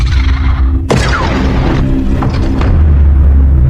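A small caterpillar in the film Predator Badlands bursts with a sudden sharp boom, followed by crackling debris and a low rumbling tail over a dense, loud film soundscape.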